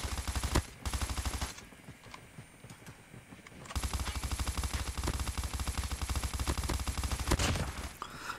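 Rapid automatic weapon fire in a shooter game, fired from the hip in long, evenly rattling bursts, loud and close, broken by a few seconds of quieter pause before the shooting resumes.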